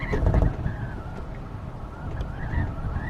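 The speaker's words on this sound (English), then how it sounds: "in the bathroom, you can hear the wind whipping through the fan." Gusty wind rushes and whistles through a bathroom fan vent in a Class A RV, rising and falling in bursts with a low rumble, steady and fairly close.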